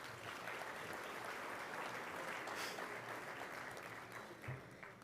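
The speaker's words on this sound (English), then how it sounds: "So please give them a round of applause." Banquet audience in Toledo applauds steadily, a dense, even wash of clapping that stays fairly quiet and distant for five seconds and thins slightly near the end.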